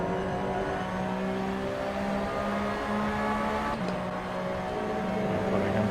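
A sim racing game car engine drones steadily at a constant pitch throughout, with sustained harmonic tones and a brief shift near the middle, no voices present.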